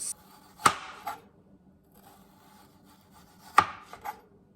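A knife slicing still-frozen food into thin slices for pizza, two distinct crunchy cuts roughly three seconds apart, each a sharp bite followed by a short scrape, close and clear with no voices.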